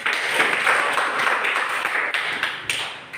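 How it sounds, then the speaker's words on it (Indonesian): A classroom group claps for a student group's presentation, a brisk burst of many hands with sharp individual claps, fairly close and fading toward the end, with no talk. "kita berikan tepuk tangan"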